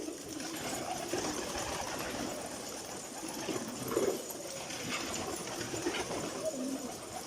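Pigeons cooing in a loft kept for breeding: soft, low repeated coos over a steady wash of background noise, moderately close, with no talking.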